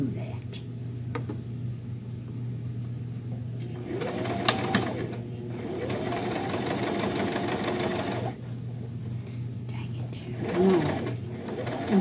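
A sewing machine in need of oiling stitches a fabric Christmas tree, its steady mechanical hum running throughout with brief pauses and light clicks, while a soft voice murmurs faintly in the background.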